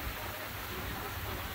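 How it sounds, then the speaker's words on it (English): Heavy monsoon rain pours onto a slow boat on the Mekong River in Laos, a dense, steady hiss of water with no break across the short stretch. "it started to rain really hard, like a monsoon"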